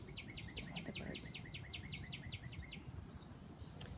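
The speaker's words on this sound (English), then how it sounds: "And there is one of the birds." A bird outdoors repeats a rapid series of sharp, descending chirps for a few seconds, then falls quiet apart from one last faint note, over a steady low background rumble.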